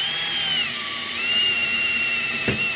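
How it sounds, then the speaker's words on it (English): A high-pitched drill with a pilot bit whines steadily, boring into a 2016 Chevrolet Silverado for a fifth-wheel hitch install, its pitch dipping and rising as the bit bites in, with a brief knock near the end. "Our center here is where I'm going to drill, and I'm going to start with a pilot bit"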